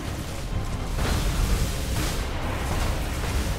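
A Doomfire weapon unleashed in a space fleet battle in Battlefleet Gothic gives a sustained, roaring rumble of broadband explosive noise, swelling in waves for several seconds.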